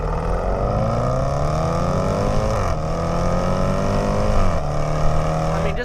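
The 2018 Range Rover SVR's engine pulls hard through the gears, its loud rising roar dipping briefly at two upshifts before climbing again, heard from inside the cabin.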